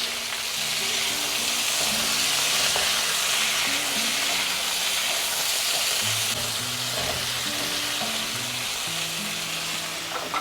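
Potato pieces sizzle loudly in a hot pan while being tossed and stirred, a constant close frying crackle with the scrape and clatter of utensils throughout.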